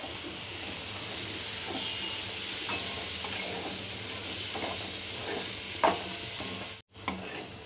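Cluster beans sizzle steadily in a hot pan as they are stirred, a constant frying hiss broken by a few scraping knocks of the spoon, close up with no voices.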